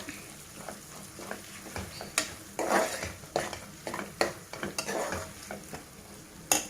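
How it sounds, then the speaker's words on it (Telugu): Frying and stirring in a pan while cooking menthi pappu, with soft sizzling under repeated scraping strokes of a spoon against the pan, close and continuous with no talking. "ఇలాగ బాగా మంచి వాసన వచ్చే వరకు వేపుకోవాలి"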